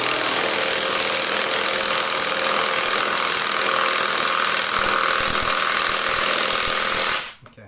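A KAUSU cordless impact driver from AliExpress runs continuously, driving a screw into wood. It gives a loud, steady, rapid hammering buzz close by, then stops abruptly near the end.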